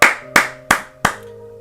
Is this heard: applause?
yes